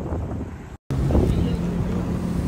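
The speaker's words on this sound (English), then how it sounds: "And the winds are pretty high right now." Strong wind at about 15 mph buffets the microphone during a jet ski ride on a bay, a loud rushing roar with a brief dropout near the start.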